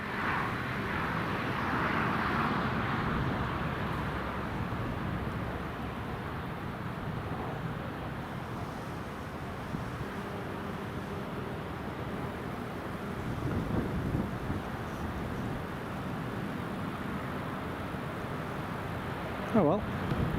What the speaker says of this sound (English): Tony, bet this Scandinavian will taxi and land as usual.